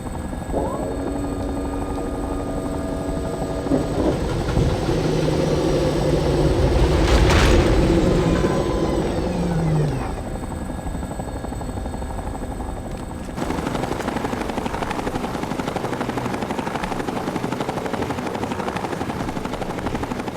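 Vertibird helicopter in Fallout: New Vegas, steady loud rotor drone throughout with a deep boom swelling around the middle, then a continued whirring hum with distant rumbling blasts.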